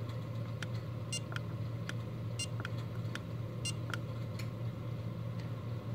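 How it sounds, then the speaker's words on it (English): Short electronic beeps from an ISDT Q6 Plus charger chirp at irregular intervals over a constant low mechanical hum, each one brief and high-pitched. "hold it down until you hear a little beep"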